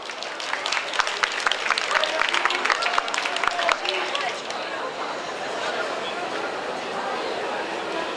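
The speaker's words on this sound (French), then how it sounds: "On peut les applaudir ?" A crowd applauds singers at a manga convention singing contest in Paris, loud dense clapping up close for about four seconds, then easing into a softer rustle of claps and murmuring chatter.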